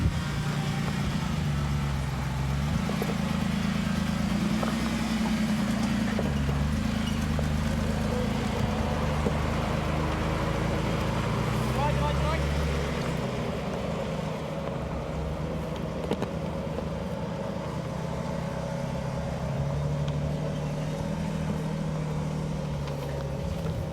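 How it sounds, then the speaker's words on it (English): A 4x4 Ruby with a very low gear ratio and front and rear lockers crawls up a rocky, rutted track at a 4x4 club challenge. A steady, close low engine drone runs throughout with no talking. "The Ruby comes standard with a very low gear ratio and front and rear lockers, and it simply crawls up this rocky, rutted affair"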